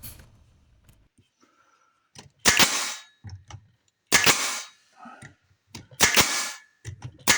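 A pneumatic nailer driving finish nails into scrap wood on a farmhouse-style build, three loud sharp bursts spaced about two seconds apart, each with a clattering ring and a brief hiss afterward.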